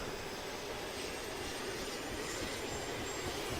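Helicopter in the Arma 2 video game lifting off, a steady broadband rotor and turbine roar holding evenly loud throughout, with no speech.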